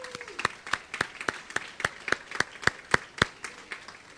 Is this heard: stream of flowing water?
no